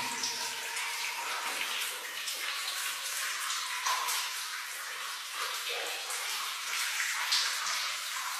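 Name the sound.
water flowing out through a drainage system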